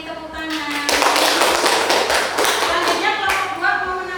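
Students in a classroom applaud together, a dense, fairly loud spread of clapping with a regular thudding tap underneath and some voices mixed in.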